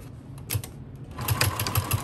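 A sewing machine with a size 14 needle and Gutermann Mara 100 thread loops over a seam while making a bag. Short rhythmic bursts of stitching run close up after a brief quieter pause.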